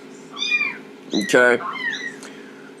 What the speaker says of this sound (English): my cat just had kittens, so there's little kittens in the background crying.